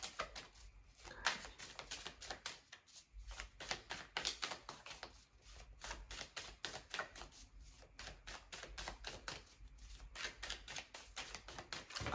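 Tarot cards are shuffled in rapid, irregular riffling bursts of crisp clicks and flutters. The sound is close but faint, continues without pause for about twelve seconds and has no speech over it.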